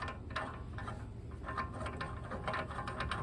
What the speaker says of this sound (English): So I'm pulling the cross bolt out of here so I can separate this from the steering arm.